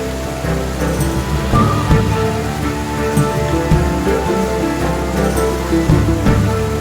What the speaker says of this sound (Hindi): ऊपर से गिरता हुआ सफ़ेद पानी पत्थरों से टकराकर नीचे गिरता है